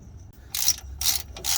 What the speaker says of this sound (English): to tighten the plug, we're gonna be using this Allen socket